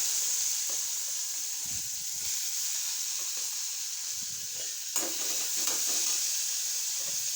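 Urad dal, mustard seeds and onions frying for tempering in a pan, a steady hissing sizzle close by with soft stirring scrapes and a few brief pops.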